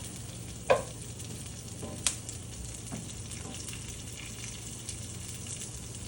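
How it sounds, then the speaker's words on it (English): Chilies fry in hot oil for Gobi 65 while a spoon stirs them in the pan, giving a steady close sizzle with a few sharp clinks and scrapes of the utensil against the pan. "You can mix it like this little bit just to make the chilies to fry."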